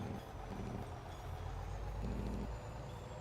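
Heavy truck engine in a video game with a steady low rumble, driving continuously with a slight dip and swell in load around the two-second mark and no talk over it.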